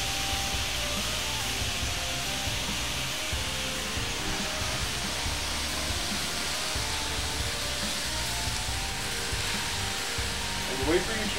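Provolone cheese melting on a hot cheesesteak griddle gives a steady, even sizzle with a broad hiss that holds at one level throughout, while a person talks over it.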